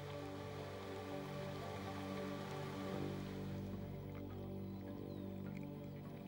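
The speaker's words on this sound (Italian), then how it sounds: "Molto di più che semplice pioggia, molto di più che acqua da bere." Rain pours steadily on the Serengeti, a dense close hiss of drops at even loudness that thins slightly toward the end, with no speech.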